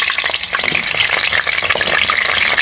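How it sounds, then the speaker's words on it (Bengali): Potato pieces frying in mustard oil in a kadai, a loud, close, crackling sizzle with bursts of spattering and some stirring that stays busy and continuous throughout. "প্রথমেই আমি আলুগুলোকে ভেজে নেব।"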